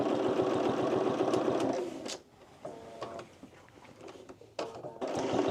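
A home sewing machine top stitches around the neckline of an oversized blazer, running steadily for about two seconds, pausing, then resuming in brief close bursts.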